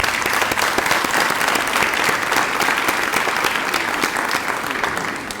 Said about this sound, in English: We can give them one more round of applause.